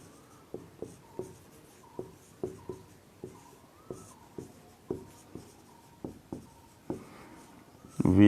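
Chalk or marker strokes on a board during a lesson: a series of short, sharp taps and scrapes in an uneven rhythm, close and clear, ending with a louder rustle.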